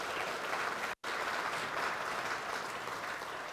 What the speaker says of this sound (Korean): 이분들께 수고하셨다고 위로의 박수를 한번 보내드립시다.